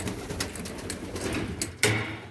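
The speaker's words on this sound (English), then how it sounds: "This one has got little white doves in it." Small white doves in a backyard loft box give soft, low cooing over a steady ambient bed, with a brief louder rustle or flutter near the end.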